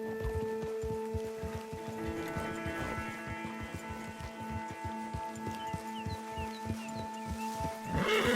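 Horses clop along in a brisk, even hoofbeat rhythm, close and clear, while one whinnies loudly near the end over a sustained tonal background.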